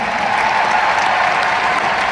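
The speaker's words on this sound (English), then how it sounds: "Let's have a big round of applause" Steady, dense audience applause at a large fan event, loud and continuous with no gaps, a crowd clapping together for two presenters brought on stage, then cutting off abruptly at the end.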